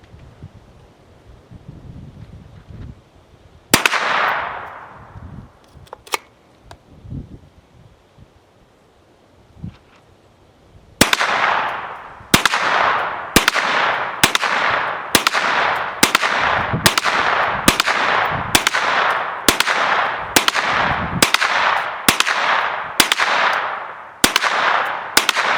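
A Hi Point pistol with a high-capacity magazine fires one sharp shot, then a single fainter pop, then a rapid, evenly spaced string of loud cracks with ringing tails, outdoors with light wind noise.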